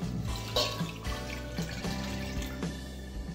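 Water is poured steadily into a pan holding gelatin mix on an unlit stove, a continuous splashing rush with a few louder splashes.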